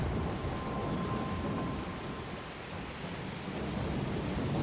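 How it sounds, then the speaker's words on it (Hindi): A sudden downpour roars as a dense, steady broadband wash, heavy rain pouring over a house, continuous and fairly loud with no voices on top. "अब बारिश अचानक आ गई"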